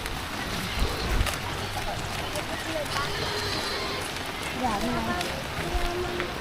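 Steady rain that keeps falling without letup, a continuous hiss of drops on surfaces with people talking over it at close range.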